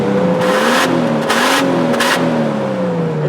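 An old Toyota Supra engine revs steadily and loudly, holding a sustained whirring drone with a slight rise and fall in pitch and some airy hiss bursts layered on top.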